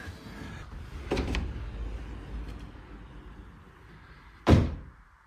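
A wooden pocket door is lifted and popped onto its track wheel, making a soft knock early on and then one sharp, close thunk near the end, over a low room rumble.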